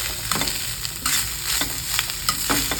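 Grated fresh coconut stir-fried in ghee for coconut ladoo, a steady close sizzle with repeated scraping strokes of a spoon against the pan, no voices.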